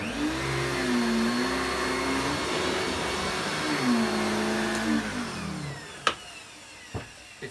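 A 2000 Samsung Wide Clean vacuum cleaner runs on a mat, its motor droning steadily and shifting in pitch as the suction grips and lets go, then it winds down with a few clunks toward the end.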